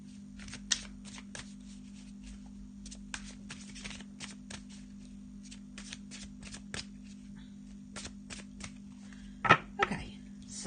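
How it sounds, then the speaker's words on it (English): Tarot cards being shuffled by hand, a quick run of crisp riffles and flicks with a steady low hum underneath and a couple of louder slaps near the end. "So let's have a shuffle and see what the Faulkner deck's got to say to us today."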